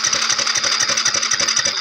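A small engine runs at a steady idle, its rapid even pulses close and constant, while a manifold leak is being checked; no one speaks over it.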